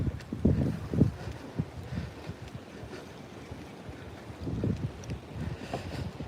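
Wind gusting across a lake during a fishing outing, buffeting the microphone in low rumbling bursts that rise and fall, strongest at the start and again toward the end.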